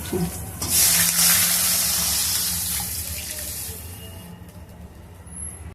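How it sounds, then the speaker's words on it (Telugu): Water pouring steadily into a cooking pan for upma, a loud close gush that starts strongly and slowly tapers over several seconds, with no talk. "ఇప్పుడు నీళ్లు వేద్దాం"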